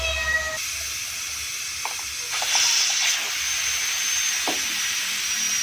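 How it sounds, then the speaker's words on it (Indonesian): A pressure cooker boiling peanuts vents steam with a loud, continuous hiss that carries on for several seconds, punctuated by a few faint clicks and rattles, with no speech. "Ini prestonya sudah bunyi, jadi tandanya kacangnya sudah matang."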